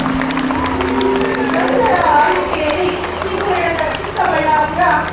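An audience applauds at the inauguration of the district Kannada Bhavan in Chikkaballapur, with steady clapping and crowd murmur mixed together and holding for several seconds under some chatter.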